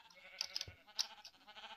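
Sheep in the video game Sheep Quest bleat in a few short, faint cries over quiet game sounds.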